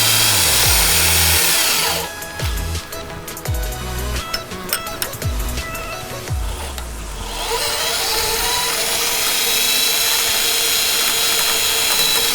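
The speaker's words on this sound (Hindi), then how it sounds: "तो मैं यहाँ पर स्टेप ड्रिल बिट यूज़ कर रहा हूँ।" Step drill bit boring a hole through a DIY F450-style drone frame, a loud steady power-drill whine that drops into a rougher grinding, chattering cut through the material before the motor spins freely again, close and alone.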